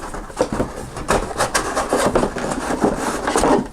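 Rustling and scraping as a small parts bag is worked out of the packaging of an Umarex Weathered Legends MP40 BB gun, a close, busy stream of plastic and cardboard rubs and taps with no talking.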